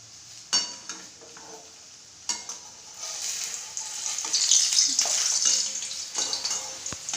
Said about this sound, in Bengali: একটা তোমাদেরকে ভেজে দেখিয়ে দিচ্ছি ফ্রেন্ডস।